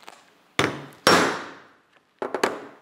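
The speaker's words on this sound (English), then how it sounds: "let's go ahead and hit it with the hammer and hopefully it cuts it" Hammer striking a grommet cutting tool through fabric: several sharp, loud metallic blows with ringing decay, one strong hit then a quick double strike, close and without talk.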